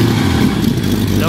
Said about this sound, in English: Definitely must have some kind of exhaust leak.